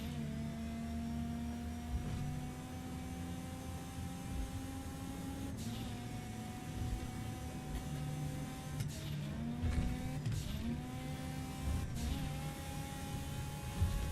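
A car engine in GTA V Online during a cash mission hums steadily with tonal drone and gliding pitch shifts as it shifts gears and changes speed, constant and fairly close, without talking.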